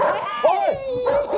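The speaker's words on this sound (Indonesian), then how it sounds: "Itu bukan suara ayam. Itu suara anjing." A big dog gives a couple of short, deep barks close by, mixed with a person's startled exclamation.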